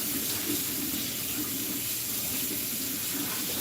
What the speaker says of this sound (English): I'm just washing the rice. Make sure it's nicely washed.